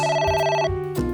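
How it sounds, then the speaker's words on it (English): A phone rings in a video game, sounding as clear electronic telephone bell tones in a rapid repeating pattern, close and alone. "A phone. Should I pick it up?"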